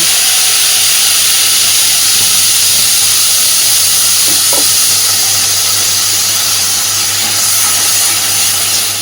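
A paste of tomato, half an onion and garlic hits a hot pan for a boal fish kalia, giving a loud, continuous close sizzling hiss that holds steady throughout.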